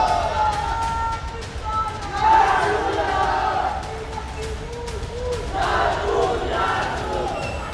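A large rioting crowd in Nagpur, a roaring mass of voices with shouted chants and cries rising and falling in waves, dense and continuous throughout.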